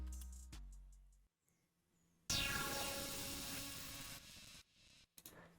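Serum synth lead, dry with no effects, for a hard trap beat: a brief low note, a pause, then a bright, buzzy sustained tone holding for about two seconds before cutting off, with a short stab at the end.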